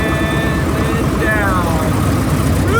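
A small plane's piston engine running steadily as the mixture is leaned back, a constant loud drone with faint tonal whine shifting slightly, and a voice talking over it.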